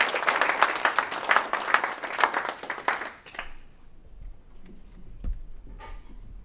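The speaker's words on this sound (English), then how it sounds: "So clap it up for Marion Kellner." An audience applauds a storyteller at a comedy revue at the Lava Center, with loud dense clapping for about three seconds that breaks off abruptly, leaving a few scattered claps and quiet room noise.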